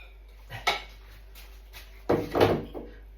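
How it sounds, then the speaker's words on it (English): Plates and a Weetabix bowl being washed up, with clinks and knocks of crockery and cutlery at close range, two louder clattering bursts among quieter handling sounds. "if you see me washing this bowl up, this is a Weetabix bowl"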